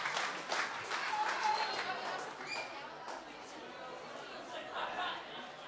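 Audience applause for a performer after a live looping music set, faint scattered clapping mixed with crowd chatter, fairly quiet and thinning out toward the end.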